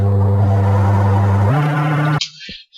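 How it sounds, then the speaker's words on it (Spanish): A running microwave oven gives a loud, close, steady low hum that shifts in pitch partway through, then cuts out abruptly, leaving a brief faint tone. "Y esto es el microondas cuando está funcionando."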